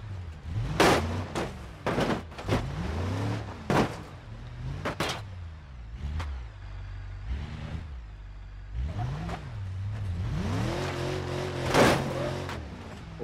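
A car engine off-roading up a mountain in BeamNG Drive, repeatedly revving up and dropping off with sharp clunks and knocks of the suspension as it climbs rough ground, close and fairly loud with no talk over it.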